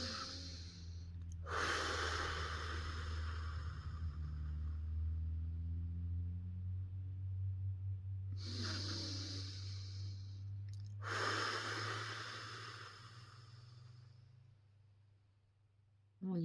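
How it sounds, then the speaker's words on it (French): Three slow, deep breaths during a guided meditation, each a long airy inhale and exhale, close and calm, over a steady low musical drone. "Je vais vous inviter à prendre 3 profondes respirations pour incarner vous-même cette libération."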